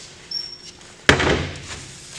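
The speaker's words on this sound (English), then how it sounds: "I'm gonna close these cabinet doors." A cabinet door in a film-processing darkroom swings shut with a single firm, close knock, followed by a brief softer rattle as it settles.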